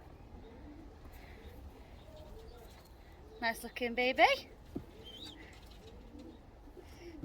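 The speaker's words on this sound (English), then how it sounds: "So I'm just going to get these young birds and we'll take a look at them." Young pigeons coo softly in a loft, with a short louder burst of calls near the middle and someone speaking briefly.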